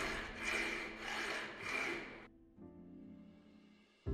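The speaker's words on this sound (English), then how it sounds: "our file fits perfectly in there and effectively removes all the nicks" A hand file rasps back and forth inside a hole in an old wrench, making several rhythmic metal strokes up close. A duller, quieter scraping follows.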